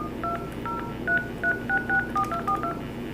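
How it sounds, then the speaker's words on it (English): Touch-tone keypad on a Polycom SE-220 phone sends a rapid string of DTMF dialing beeps, about a dozen short paired tones in uneven rhythm over a steady low hum, close and clear with no talking. "Now let us go ahead and dial the number in."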